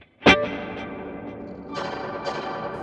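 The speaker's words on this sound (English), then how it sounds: "I decide I want to go to the Gemini reverb" A Gemini reverb on a Fractal AM4 guitar preset, with a sharp electric guitar strum at the start ringing into a long, washy reverberant tail, then two more strums swelling in later.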